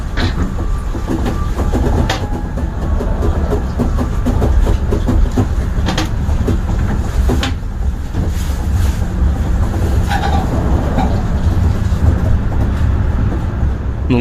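The Serayu passenger train from Jakarta toward the Priangan region rolls along the rails with a loud, steady rumble and intermittent clacking from the wheels, heard close and continuous with some wind buffeting.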